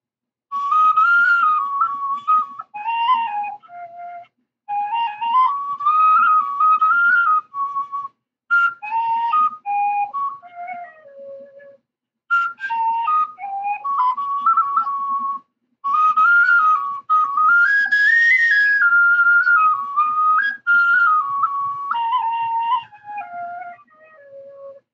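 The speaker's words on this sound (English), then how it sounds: "I'm going to play Beag Si Mor" A tin whistle muffled with poster putty plays a lively Irish tune, its soft, breathy melody running in phrases with short pauses, the low notes weaker than the high ones.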